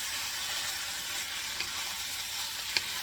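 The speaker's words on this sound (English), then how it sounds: "Stir it up good." Spam fried rice with meat and vegetables sizzles steadily in a hot pan as it is stirred, a continuous bright frying hiss with a couple of faint utensil clicks, no talking.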